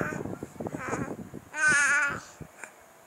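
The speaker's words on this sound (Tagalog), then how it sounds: "Ba't ang ingay-ingay naman ng baby boy?" A baby boy babbles noisily in a run of rising and falling syllables, then lets out a longer, louder squealing cry before trailing off into short sounds.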